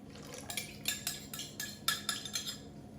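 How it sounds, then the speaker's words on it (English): Yeast being stirred into a dough mixture for Mennonite Zwieback rolls, a spoon scraping and clinking against the bowl in quick irregular strokes, faint and close, with no voices. "I'm gonna give that a good stir"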